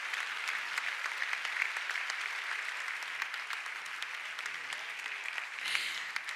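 Steady applause from an audience for an award recipient at an economic development prize ceremony, continuous clapping at moderate level throughout.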